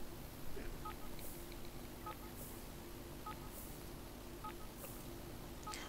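A Sim uses a phone in The Sims 4, tapping out a series of short, evenly spaced beeps like phone keypad tones. The beeps sit over a constant hum of background game ambience.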